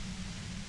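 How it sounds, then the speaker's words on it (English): Steady, dense white-noise static from the video game Disco Elysium, a constant rushing hiss with a heavier low rumble and no pauses. "you can do it through the white noise"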